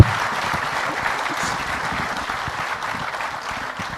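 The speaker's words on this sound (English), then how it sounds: "Can we have a big round of applause for Mr." Audience applause at a corporate event stage presentation, a dense, steady clatter of many clapping hands that starts at full strength and continues evenly for about four seconds, slowly thinning toward the end.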